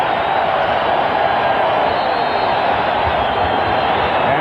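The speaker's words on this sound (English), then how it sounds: "And this crowd exploding." A basketball arena crowd at the 1996 NBA Finals, Seattle at Chicago, roars in a loud, sustained wall of cheering that barely wavers across the whole stretch.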